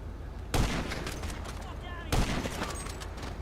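Sniper rifle shots in GTA 5 Online, two loud booming reports about one and a half seconds apart, each with a long echoing tail, close and dominant.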